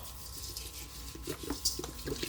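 Liquid is poured into animal feed while it ferments, a short splashing, trickling pour heard close up with a few drips.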